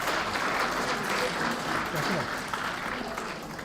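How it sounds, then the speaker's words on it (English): A conference audience at a women's gathering in Gambia gives another round of applause, a steady crowd clapping with some voices mixed in, holding at even loudness before easing slightly. "Can we please give her another round of applause?"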